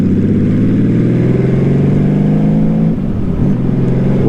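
Honda Valkyrie motorcycle exhaust pipes rumbling loudly up close, a steady throaty drone that climbs in pitch, dips briefly near the three-second mark, then resumes.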